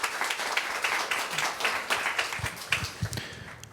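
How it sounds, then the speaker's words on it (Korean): Audience applause for the panel and moderator at the close of a Seoul youth issues forum, a steady moderate patter of many hands clapping with a few sharper claps standing out, no talk over it. "패널과 좌장 여러분께 다시 한번 큰 박수 부탁드리겠습니다"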